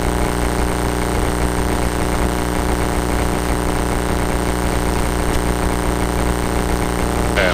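A small propeller airplane on landing approach to a runway, heard from inside as a loud, constant engine and propeller drone with a steady tonal hum, no voices over it.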